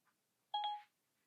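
An iPhone on a Spyder RT motorcycle mount plays its short whooshing message-sent chime after a Siri text, a single bright tone sweeping off quickly in an otherwise quiet setting.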